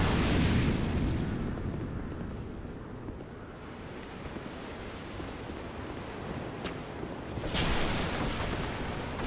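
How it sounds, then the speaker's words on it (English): Video game explosions boom low and broad, loudest at the start, then rumble on in a dull roar with sharper cracks near the end, with no talking over them. "explosions"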